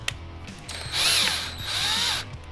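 Ratchet clicking as a gasket clamp on the throttle body of a 2012-2022 Dodge Charger 6.4L is loosened during a cold air intake install, with two bursts of rapid mechanical clicks close up.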